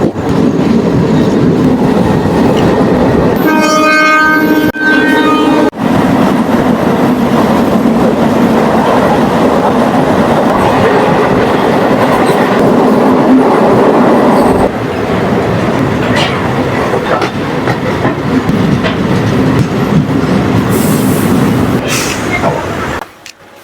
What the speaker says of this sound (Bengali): আর আমাদের ট্রেন এগিয়ে চলেছে তার নিজের ডেস্টিনেশনের দিকে।